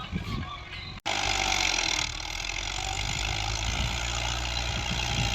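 A 2019 New Holland Dabang tractor engine runs steadily close by, a continuous loud diesel drone with a brief cutout near the start, then a sustained rumble.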